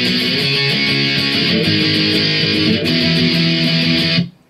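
Guitar fill: loud, distorted, sustained chords ring out for about four seconds with steady strumming, then cut off abruptly into silence.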